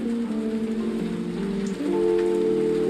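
Mustard flower fritters frying in hot oil, a steady close sizzle like light rain that grows a little louder partway through, with a faint tonal hum underneath and no talk.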